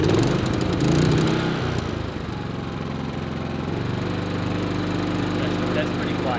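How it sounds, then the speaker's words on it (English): A portable generator runs steadily in a shop with 12 liters of fuel, a constant small-engine drone near the microphone and slightly louder at the start, while a voice talks over it. "This generator doesn't even know what it's about to get."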